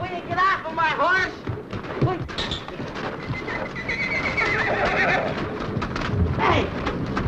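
In a 1960s forest adventure drama, a horse whinnies loudly and stamps its hooves on the ground while people shout and talk over the commotion.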